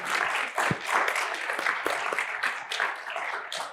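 Audience applause at a fireside chat event, dense steady clapping from a moderately sized crowd lasting throughout, fairly close and even in loudness.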